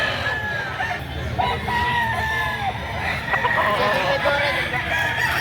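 A stag rooster at a Saturday chicken market in Lipa, Batangas crows repeatedly, loud and close, over background chatter and other fowl clucking.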